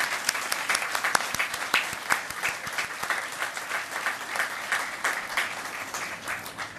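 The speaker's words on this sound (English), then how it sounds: "Please join me in giving a round of applause for Master Sergeant Heil for that wonderful" Audience applause after a national anthem rendition at a Defense Department Pride event, steady crowd clapping with some sharp individual claps standing out near the start, gradually thinning toward the end.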